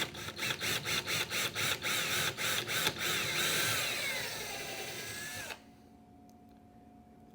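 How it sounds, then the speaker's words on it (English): A power drill with a 7/64 bit pulses in quick bursts, then whines steadily as it bores through an IKEA cabinet for a handle, winding down and stopping near the end; close and loud. "that's where I'm going to drill"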